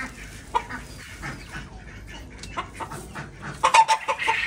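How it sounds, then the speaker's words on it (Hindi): Chickens cluck close by in a mini zoo enclosure, with steady fowl chatter throughout that grows louder and busier toward the end, over a faint background murmur. "चलो इधर मुर्गी, चलो।"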